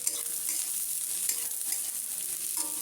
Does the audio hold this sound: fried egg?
yes